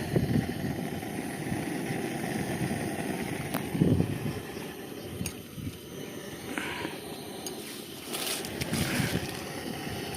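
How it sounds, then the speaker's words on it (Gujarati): Strong wind blows outdoors during a village trip while water heats for Maggi soup noodles, making a steady, loud buffeting rumble against the microphone that lasts the whole time with a few brief gusts. "પવન અહીંયા બહુ છે ને"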